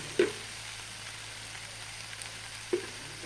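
Turmeric and coriander powders sautéed in hot oil for egg curry, a low steady frying hiss punctuated by two sharp spatula knocks against the pan, with no talk.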